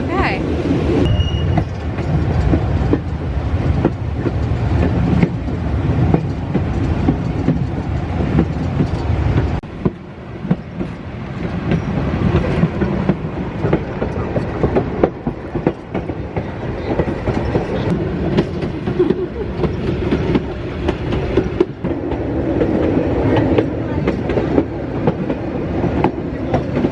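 A passenger train running through the Rhone valley in France: a steady loud rumble with rhythmic clickety-clack of wheels and occasional squeal, heard from inside the carriage with people talking over it.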